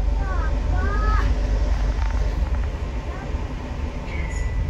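KA Majapahit New Generation economy passenger train riding between Nganjuk and Madiun, a steady loud interior rumble and rolling roar with brief tonal squeals, while a station announcement voice speaks over it.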